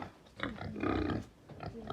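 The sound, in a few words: pig grunting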